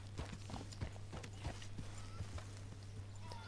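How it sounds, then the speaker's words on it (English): A horse walks in the video game Red Dead Redemption 2, its hooves clip-clopping in a steady, even rhythm. The hoofbeats are soft and sit over a low constant hum and faint creaking tack. "Healthy looking horse there."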